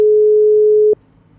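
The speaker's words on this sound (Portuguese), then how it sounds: "Deixa eu ligar para ele aqui." A phone ringback tone during an outgoing call: one steady, clear electronic tone lasting about a second, then it cuts off, leaving faint background hum.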